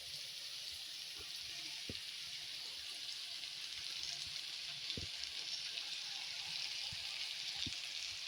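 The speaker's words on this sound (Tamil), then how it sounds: "ஆட் பண்ணி வச்சு இதையும் நல்லா ஒன்று போல் வதக்கி விடலாம்." Chopped onions sautéing in a pan while making a spring onion dish, giving a steady mid-level sizzle with a few soft clicks of a utensil scattered through.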